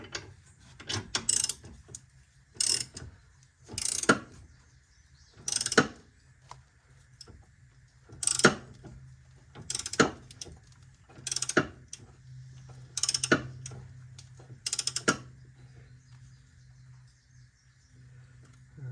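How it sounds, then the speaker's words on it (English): Ratchet clicking in repeated bursts while tightening a ball joint on a 1996 Jeep XJ, about ten short sharp runs of ratcheting separated by pauses, close and fairly loud over a low steady hum. "so now we go through and tighten it all back down again."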